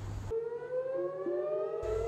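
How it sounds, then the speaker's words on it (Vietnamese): An air raid siren sounds in northern Israel, a steady wailing tone that slowly rises in pitch, heard alone between short bursts of louder broadband noise at the start and end. "Còi báo động không kích đã vang vọng tại khu vực phía bắc Israel và cao nguyên Golan vào sáng 2 tháng 6"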